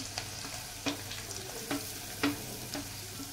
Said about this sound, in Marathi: आता लसूण फ्राय झालाय, तर आता मी कांदा घालून घेते